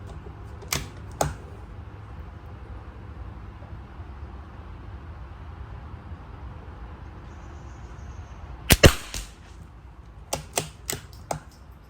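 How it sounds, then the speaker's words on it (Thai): Sharp, isolated clicks from an MRAD rifle scope turret being adjusted on a CZ-457 at a 50-meter range: two early clicks, then a quick cluster and several evenly spaced clicks near the end, over a steady low background hiss. "ผมจะปรับขวาอีก 5คลิกนะครับ ปรับไฟอีก5คลิกเป็น 10 คลิก"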